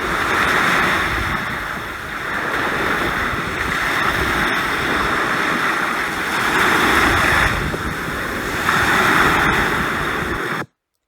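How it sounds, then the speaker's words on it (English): Ocean surf rolls in with slow, repeating swells while wind buffets the microphone, a loud and continuous outdoor roar. "The waves, the winds, the seagulls."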